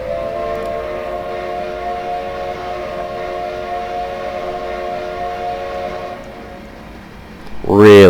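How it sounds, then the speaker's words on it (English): A steam locomotive whistle from the Machine Rail 1907 EFCB 0-6-6-0 in Train Simulator Classic blows one long steady chord for several seconds, loud and close, then tails off into a brief rising wind-up sound at the end. "Really nice sounding whistle though."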